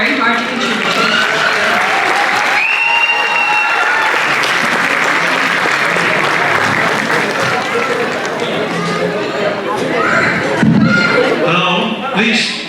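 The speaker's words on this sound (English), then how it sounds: "Now please show this sweet, talented, and devoted group the same love and affection you showed the kids with a huge round of applause" A crowd at a Diwali cultural program gives a long, loud round of applause for a performing group, with cheers and whoops rising out of the dense clapping and a burst of excitement near the end.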